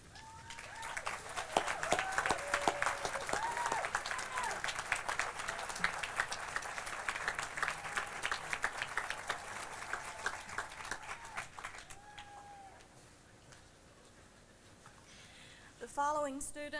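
Graduation audience at the 2000 Elon College commencement breaks into dense, sustained applause for about twelve seconds, then it thins out and fades, with a voice speaking over the crowd.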